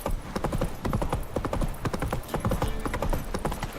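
Horse hooves clip-clop at a steady trot in The Witcher 3, a continuous close rhythmic patter of hoofbeats throughout.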